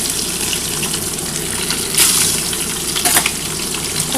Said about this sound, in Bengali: বন্ধুরা প্রথমে কিন্তু আমি ডিমটা ভেজে নিচ্ছি, একটু হালকা করে ডিমটা ভেজে নেবো